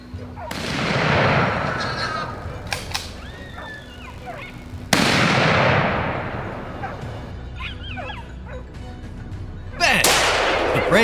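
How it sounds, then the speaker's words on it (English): Three loud, sharp shots from a hunting rifle fired at a wild boar at close range, each a sudden blast that trails off into echo, with dogs yelping and barking between them. "At close range, Jay took his shot."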